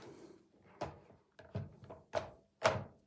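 Polymer roller of a Novolux LUX floor mop clicking into its slide mount, several short sharp plastic thunks and taps in sequence, close and fairly quiet with no talk.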